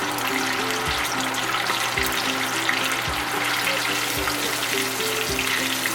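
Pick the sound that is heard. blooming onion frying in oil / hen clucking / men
blooming onion frying in oil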